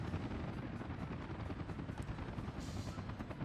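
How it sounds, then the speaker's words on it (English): Helicopters queuing to pick up resources in the video game Workers & Resources: Soviet Republic, a steady close rotor thudding that drones on throughout without talk. "looks like the helicopters are queuing here, ready to pick up the necessary resources"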